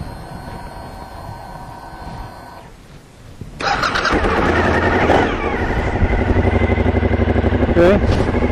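A stock 2003 Suzuki SV1000N motorcycle with stock, sealed mufflers sits quiet for a few seconds, then its engine fires at about 3.5 seconds and settles into a loud, steady idle up close.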